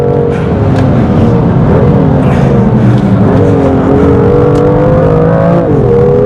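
A BMW M2 Competition pushed hard around a race track, its engine roaring loud and close with rising and falling revs through gear changes, steady and continuous without talk.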